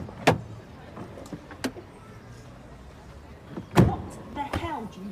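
A car door is pulled open and slammed shut twice amid a heated family squabble, with sharp close thumps standing out over low interior rumble and brief speech.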